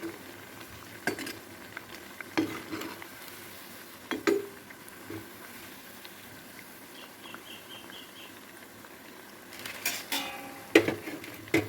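Appam batter balls frying in hot oil over a low simmer, a soft steady sizzle with occasional scraping and clinks of a utensil against the pan.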